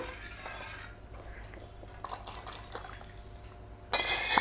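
Cooled tempering oil is poured over mango and red chili pickle. A soft wet pour and clink of a vessel come near the end after quiet handling sounds.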